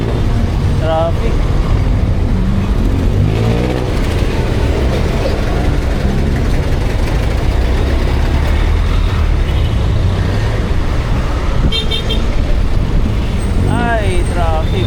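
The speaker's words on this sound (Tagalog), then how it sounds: "Ay, traffic." Heavy road traffic on EDSA rumbles loud and constant, with engines idling and passing, a bus or truck droning nearby, and brief brake squeals, while people talk over it.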